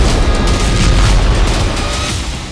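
A drone attack sets off explosions at a Russian arms depot in the town of Toropets, heard as a loud, sustained deep rumble of blasts that fades gradually over a couple of seconds, with no voices.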